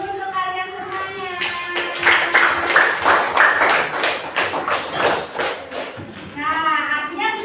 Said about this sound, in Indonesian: Tepuk tangan dulu untuk kalian semuanya.